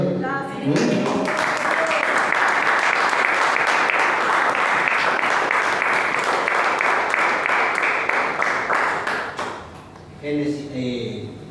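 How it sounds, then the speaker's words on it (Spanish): A church congregation breaks into loud, sustained applause after a brief lead-in of a voice, the clapping dense and steady before fading out near the end as speech returns. "¿Le dan un aplauso al Señor?"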